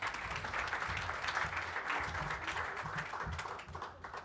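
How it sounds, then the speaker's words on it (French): Sustained audience applause at the official opening of a Senegal day event, dense steady clapping filling the room at fairly even loudness throughout. "Sous vos applaudissements, s'il vous plaît."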